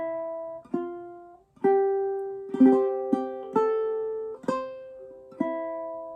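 Clawhammer-style ukulele picking the opening phrases of Wildwood Flower, with six or seven plucked and brushed attacks that ring into sustained chords, close and clear with no voices.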